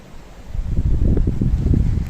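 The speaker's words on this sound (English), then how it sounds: "See how windy it is. It's just blowing the trees all over the place." Strong gusts of wind shake and rustle trees outdoors on a very windy day, swelling into a loud, steady roar with heavy buffeting against the microphone.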